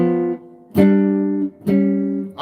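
Two-note jazz shell voicing chords on guitar, played without a bass line, sound in three clear, loud strikes that each sustain for nearly a second.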